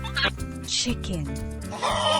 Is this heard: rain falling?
no